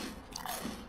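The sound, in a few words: biting crunchy homemade croutons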